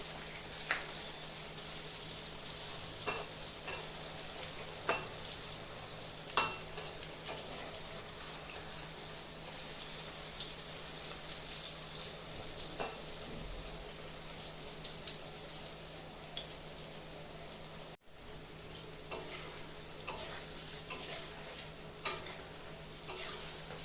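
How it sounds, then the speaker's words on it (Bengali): Raw banana kofta, just flipped, fries in a pan with a continuous soft sizzle, punctuated by occasional scraping and clinking from a utensil, with no voices. "বন্ধুরা, আমার কোপ্তাটা ভাজা হয়ে গেছে"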